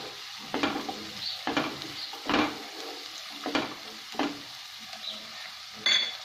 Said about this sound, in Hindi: अब मैं इसमें थोड़ा सा शिमला मिर्च डाल दूंगी